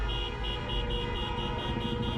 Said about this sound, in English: the excessive amount of honking